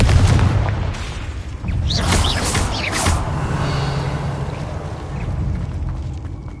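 Confringo spell explosions in Hogwarts Legacy, a loud opening boom followed by crackling fiery bursts and a sustained rumbling roar through the middle of the combat.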